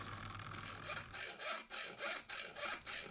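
A hand saw cuts through soft brass sheet to shape a square, a steady rasping back-and-forth with about seven strokes in an even rhythm, close and fairly quiet.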